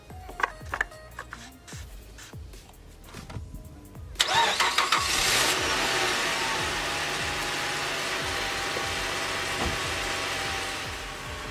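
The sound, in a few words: 2006 Chrysler 300 2.7 engine starting and running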